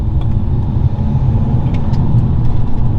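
A BMW E90 320d diesel fitted with a Ramair induction kit revs hard, giving a loud, close, sustained engine roar that holds steady for the whole stretch with no voices over it.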